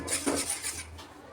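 Sifted flour being mixed into strained jaggery syrup in a bowl for a healthy cake batter, a short run of scraping, clinking utensil-against-bowl strokes, close and fairly soft, with no talking.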